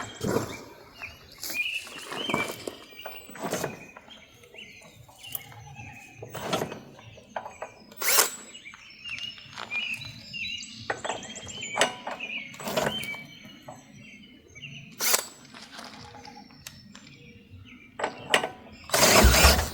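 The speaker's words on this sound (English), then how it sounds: "We're going to try starting this thing with a drill because the starter gear keeps slipping up off the end." A power drill cranking a lawn mower engine whirs in repeated short bursts, with mechanical clanking and rattling between them as the engine turns over, close and fairly loud.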